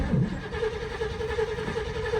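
An old Chevy square body truck, a barn find, cranks over with a steady mechanical churning of the starter turning the engine, moderately loud and close.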